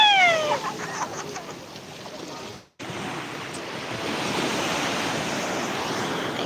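Sea waves wash in on a beach, a broad surf roar with wind buffeting the microphone, briefly cut off by a gap before the steady rushing resumes and swells louder toward the end.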